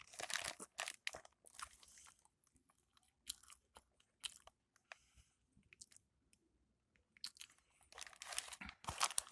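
Close, crunchy chewing and biting into a tower burger, with bursts of loud crunches and wrapper crinkling separated by quieter pauses, with no talking.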